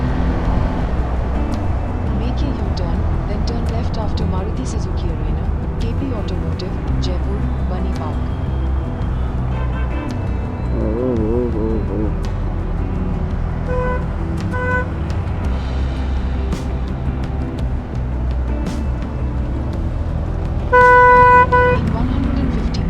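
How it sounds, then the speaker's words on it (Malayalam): Busy road traffic in Jaipur heard from a motorbike: a constant low engine and road rumble, with several car horns tooting, including a loud, sustained honk near the end. "നല്ല ട്രാഫിക് ഉണ്ട് കേട്ടോ അവിടെ."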